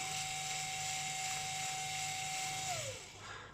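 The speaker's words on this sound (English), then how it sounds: "this is what it's like with the burrs turning" An SPTK 38 compact espresso grinder runs with its burrs turning: a steady, close motor whine holds for a few seconds, then winds down as the motor stops, with no one talking.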